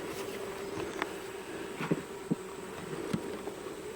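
Honey bees buzz steadily at an open beehive, a dense continuous drone with a few individual bees flying close past, loud and near.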